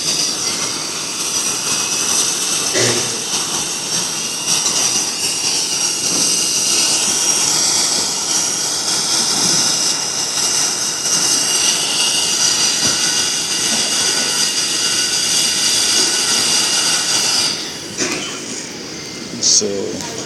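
A United Airlines 747-400 applies reverse thrust after touchdown at LAX in the Infinite Flight game, a loud sustained jet roar that fades near the end, with brief clicks and a voice faintly underneath.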